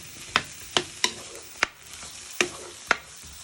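Vegetables sizzle in a hot wok over high heat while a utensil scrapes and tosses them, with sharp clanks every half second or so.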